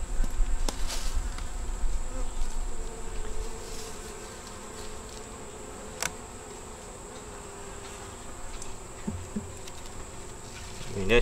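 Honey bees at a small nucleus hive buzz in a steady, dense drone close by, with a few sharper buzzes passing near and faint background noise.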